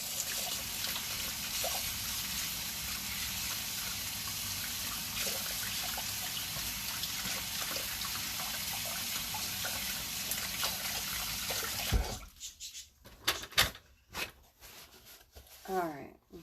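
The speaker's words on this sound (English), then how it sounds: "I'll wash my hands." Hands are washed under a running tap in a kitchen. Water pours in a steady broad rush for about twelve seconds, then shuts off, followed by drips, splashes and rustling.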